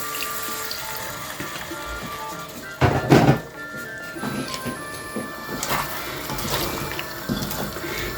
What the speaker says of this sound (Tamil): லைட்டாக சுடு தண்ணி விட்டுக்க